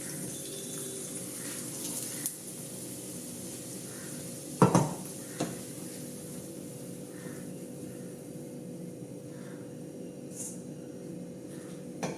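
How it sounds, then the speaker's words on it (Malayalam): Cashews and raisins roasting in ghee in a pan, a quiet steady sizzle with a few utensil clinks and scrapes against the pan, including one sharper knock near the middle. "നമ്മൾ കുറച്ച് അണ്ടിപ്പരിപ്പും കിസ്മിസും നെയ്യിൽ വറുത്തെടുക്കണം"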